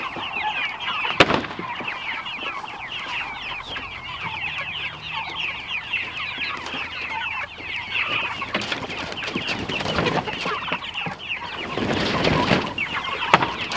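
Chickens clucking inside a movable chicken tractor, a busy flock giving continuous overlapping clucks and calls close by, with a few sharp knocks and rustles scattered throughout.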